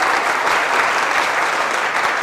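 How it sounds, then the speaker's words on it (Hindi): Studio audience at a comedy show claps in a steady, dense burst of applause, loud and even throughout with no voices standing out. "ये जो आपने तालियां बजाई हैं ये भी थेरेपी है"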